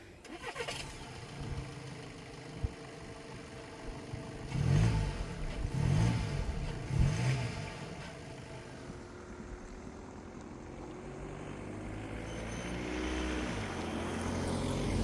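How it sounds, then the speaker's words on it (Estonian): A Škoda Octavia Combi Ambition Business on a test drive, its engine a steady, quiet hum with a few low rumbling surges of acceleration midway and road noise underneath. "Lähme teeme väikse proovisõidu nagu alati peale"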